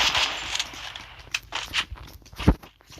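Bursts of M4 rifle gunfire from a video game, a scattered run of sharp cracks with one loud shot near the end, played alone without talk.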